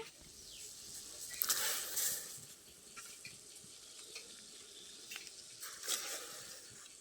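Chopped bamboo shoots tip into a pot of boiling water, giving a soft splash and burst of bubbling over a steady low simmer, with a few faint clinks of utensils nearby.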